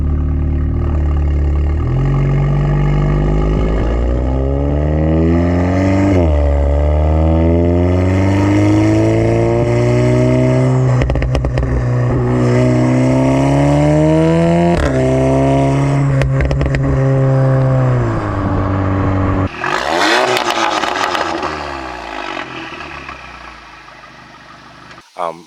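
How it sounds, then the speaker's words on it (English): Audi S3 8V with an aftermarket exhaust setup, revving repeatedly in loud rising and falling sweeps that hold steady, then a sharp burst near the end before fading out. "I have an exhaust setup that actually sounds really good on these cars"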